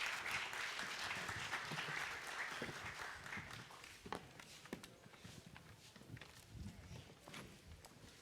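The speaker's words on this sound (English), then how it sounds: "Let's give them a round of applause." Applause from a panel audience welcoming speakers to an education event, moderately distant clapping that starts dense and thins out, with scattered louder claps and footsteps as people move.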